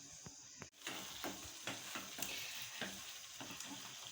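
Vegetable pasta mixture frying in a pan for Indian-style masala pasta, with a steady sizzle and repeated scraping stirs of a spoon, fairly close, no talk.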